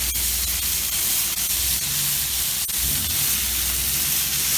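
A New York strip steak sizzles on a hot Blackstone griddle, a steady loud hiss of frying fat with occasional small pops and crackles, heard alone up close.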